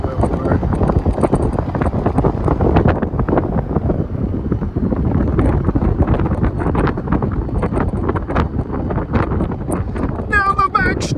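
Strong wind blowing around the Canadian Formula 1 circuit, Circuit Gilles Villeneuve, a loud constant buffeting rumble on the microphone throughout, with a few faint chirps near the end.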